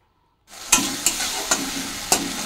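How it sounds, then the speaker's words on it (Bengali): A spice paste with water and turmeric sautés in a pan as a steady close sizzle starting abruptly, broken by several crisp scraping stirs at an uneven pace, with no talking. "আমি এবার একটু জল দেবো, দিয়ে মশলাটা ভালো করে কষে নেব"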